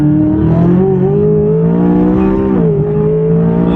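A McLaren 570S in manual track mode held in second gear, its engine revving hard with a loud, sustained, rising drone that dips briefly before climbing again, close and continuous without talk.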